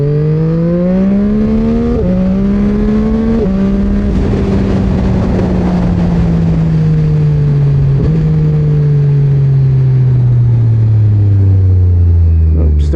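A Yamaha MT09 motorcycle engine drones loudly while riding, its pitch stepping up through gear changes and then sliding down on deceleration, with rumbling wind noise throughout and faint crackly pops as the revs fall.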